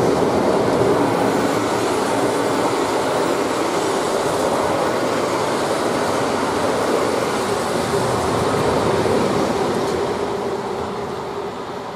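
A class 186 electric locomotive hauls a train past on the Brenner line, a sustained rumbling rush of wheels on rail with faint squeal, loud and steady before fading slightly at the end, no voices.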